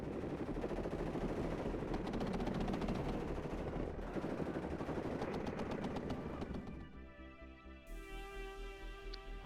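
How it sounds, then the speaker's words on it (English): Battle noise from the WARNO strategy video game: dense rapid bursts of gunfire and thudding impacts under mortar fire, loud and continuous, thinning out into scattered blasts and mechanical tones toward the end. "Mortars coming in on this area."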